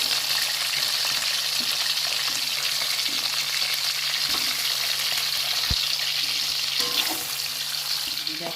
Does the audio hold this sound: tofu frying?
yes